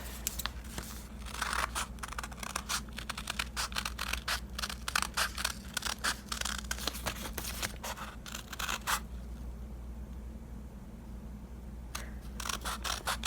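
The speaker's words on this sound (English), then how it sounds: "Usually I like to color it first and then cut it out" Scissors snip through paper in a quick run of crisp, close cuts, pause for a few seconds, then start snipping again.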